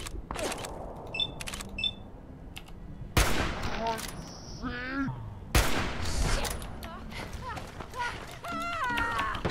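Gunfire from a firefight in the video game Fallout 4, with irregular bursts of shots and impacts cutting through game sounds and frequent talking.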